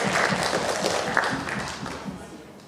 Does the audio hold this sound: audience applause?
yes